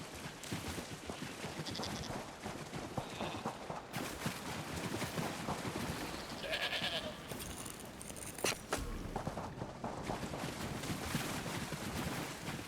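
Goats bleat repeatedly in Elder Scrolls Online, several short cries scattered over busy game sound effects and background noise, with a voice talking intermittently.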